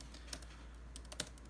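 Rapid, light key clicks from a computer keyboard patter along unevenly, soft and close, with a few sharper taps standing out over a low background hum.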